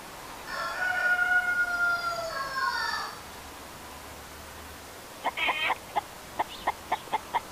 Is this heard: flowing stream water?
no